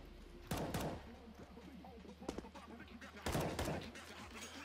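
Gunfire in Counter-Strike (CS:GO), played on a Legion Y720 laptop: two loud sharp shot bursts, one early and one near the end, with a quieter crack between, over a steady game background hum.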